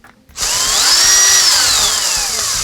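A power drill drives a screw into aluminum, spinning up sharply after a brief quiet start and whining loudly and close, its pitch rising then slowly falling as the screw seats.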